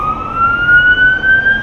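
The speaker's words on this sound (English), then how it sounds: "Sorry about the siren in the background." A steady, rising electronic siren wail from an emergency vehicle, fairly loud and continuous, with no talking over it.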